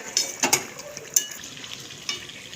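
Chicken skin and meat fry in a pan while being stirred, giving a few sharp scraping strokes over a low, steady sizzle, heard up close with no voices.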